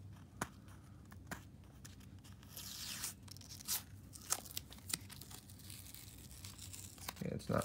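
Packing tape peeled and torn from a mail package, a quiet crinkling, ripping sound close by with a few sharp bursts, under a low steady room hum.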